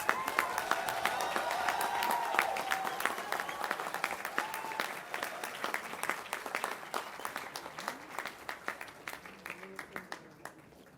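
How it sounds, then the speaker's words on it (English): An audience at a department degree ceremony applauds the MTech graduates, a full round of clapping that gradually thins into sparser, distinct individual claps toward the end. "Let's give a big round of applause to all our MTech graduates."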